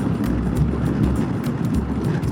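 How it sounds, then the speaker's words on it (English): Strong wind buffets a scooter rider on an open highway in Texas heading toward New Mexico, producing loud, continuous low-frequency rumbling and gusting against the microphone with irregular thumps throughout. "Man, it's windy."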